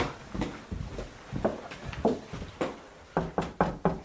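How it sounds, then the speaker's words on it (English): Knocking on a wooden door in a radio drama, several separate raps in uneven groups, close and fairly sharp, heard alone without speech. "Knock on his door."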